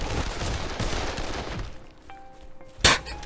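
Pistol shots in the video game Dead Island, dense rapid firing for the first couple of seconds, then a quieter stretch with a tone, followed by one loud sharp shot near the end.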